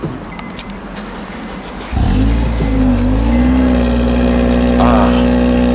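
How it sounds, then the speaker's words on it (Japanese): A Honda Civic Type R with a VTEC engine cranks and fires up, then settles into a steady, loud, close idle. Faint talk comes before the start. "まずエンジンかけてみましょうね。"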